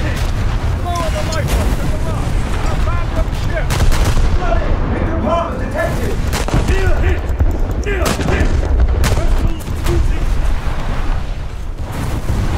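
Warship guns firing during a naval battle video game, loud booming salvos in a steady stream of heavy blasts, with a voice talking over the gunfire.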